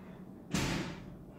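A single hard door slam from neighbours outside comes through open windows as one sharp, loud thud with a short, fading tail.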